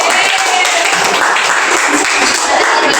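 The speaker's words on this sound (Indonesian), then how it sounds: "Tepuk tangan semuanya." A class of tenth-grade students applauds a student group after their story retelling, a brief burst of loud, dense clapping in a classroom that fills the whole moment.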